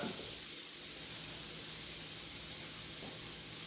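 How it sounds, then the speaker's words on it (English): Tomahawk ribeye steak searing on a 400-degree cooking surface, giving a continuous soft sizzle and hiss at a low, steady level. "So we're on 400 degrees, and let's sear this bad boy right now."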